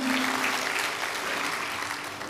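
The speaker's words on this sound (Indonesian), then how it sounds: "Tepuk tangan buat Tuhan kita, amin." A congregation in church applauding, dense, steady clapping from many hands filling the room continuously and loudly, with no voices rising above it.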